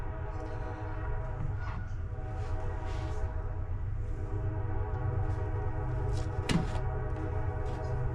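A train passing through Atlanta, with a continuous low rumble of rolling rail cars and a sustained horn, heard at a moderate distance, plus a brief sharp clank near the end.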